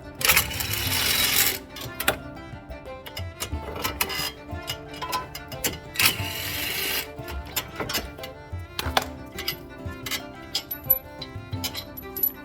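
Three 13mm hub bearing bolts on a 2009 Malibu being zipped out with a power tool, loud buzzing bursts alternating with metallic clinks and rattles of loosened bolts, close by.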